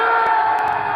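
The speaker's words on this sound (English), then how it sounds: "Crowd goes nuts." A concert crowd cheering and shouting at full volume, a dense continuous roar of voices with whoops rising above it, loud and steady for the whole second.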